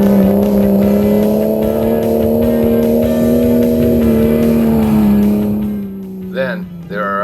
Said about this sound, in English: Some trucks are able to claw their way over the top.